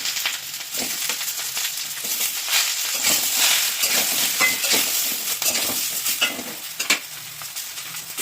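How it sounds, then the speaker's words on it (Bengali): Chopped cabbage and potatoes sizzle in a pan while being stirred, with scraping and clattering of a spatula over a continuous crackle, fairly close and with no talk. "বাঁধাকপিটাকে একটু কষে নেব, আলুটাও আরও একটু ভালো হয়ে সেদ্ধ হয়ে যাবে"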